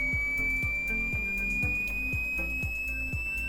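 A thin, piercing sine test tone around 2000 Hz sustains and edges slightly upward, set over quiet background music with steady low beats.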